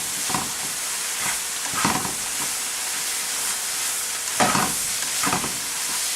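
Chili powder and cumin are stirred into a sizzling meat mixture for chili, with a steady close frying hiss and periodic scraping stirs of the spoon through the pan.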